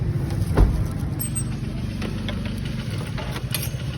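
A car drives along a highway, its engine and road noise forming a steady low rumble from inside the vehicle, with a brief thump early on and faint wind hiss.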